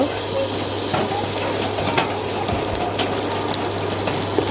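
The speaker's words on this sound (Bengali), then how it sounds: "তেল দিয়ে এগুলোকে আমি একটু হালকা করে ভেজে নেব" Green chilies, onion and bay leaf frying in oil, a steady soft sizzle running throughout with small crackles and a faint low hum underneath.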